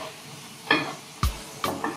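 Meat being turned in a hot frying pan, giving a few short sizzling bursts with scraping and clatter of utensils against the pan, close and moderately loud with no talk.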